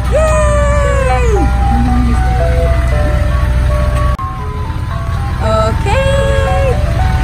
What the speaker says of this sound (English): We got the ice cream truck!